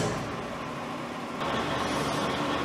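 A 1980 LeBlond Regal Servo Shift 15" x 30" engine lathe runs at its slowest spindle speed, giving a steady, close mechanical hum and whir that grows slightly louder partway through.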